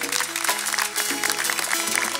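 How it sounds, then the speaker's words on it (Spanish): A theatre audience at a Christmas song concert in Telde claps warmly. The applause is brisk and continuous, with faint musical tones running beneath it. "Es el aplauso para ustedes."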